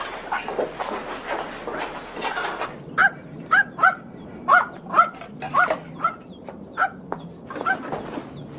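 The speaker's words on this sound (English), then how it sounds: "what are you barking at, boy?" A dog barks repeatedly in a series of sharp, fairly close barks after some indistinct background noise.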